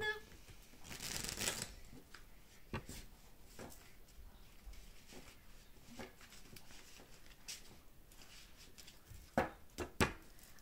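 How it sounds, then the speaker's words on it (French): Oracle cards are shuffled in a quiet room: soft repeated riffling and sliding of card stock, with a few sharper flicks and taps near the end, fairly close and gentle. "Maintenant on va tirer donc des cartes du Béline."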